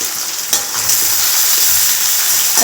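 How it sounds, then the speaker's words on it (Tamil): Salted onions sauté in a pan with a loud, close, steady sizzle, broken by a few scraping stirs, with no speech. "நல்லா வதக்கணும் வதக்கிக்கிட்டே இருப்போம்"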